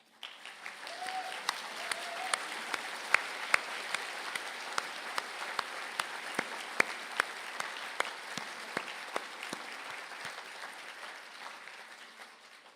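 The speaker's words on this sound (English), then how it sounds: "I ask the graduates of the BA Honours in Film and Documentary to stand for a round of applause." Applause for film and documentary graduates standing at a university conferring ceremony, with sustained clapping from a seated audience. It sounds moderately distant in a large hall, with a few sharp, close claps standing out against the crowd.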